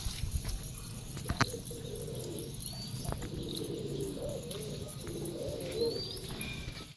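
Black Diamond pigeons coo softly in a loft, with low murmuring calls, a few chirps and light fluttering over a steady background hum; nobody speaks.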